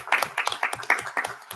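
A small audience at a community economic development committee meeting gives a brief round of clapping after a speaker's introduction, a handful of distinct, close claps in quick irregular rhythm lasting under two seconds.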